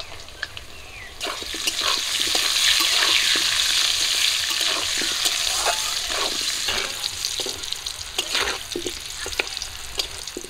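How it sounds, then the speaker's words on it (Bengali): A steady, bright sizzle of halved potatoes with salt and turmeric frying in oil continues throughout, with occasional stirring scrapes and pops. "আলুগুলো ভাজা হয়ে গেছে, তুলে নিচ্ছি।"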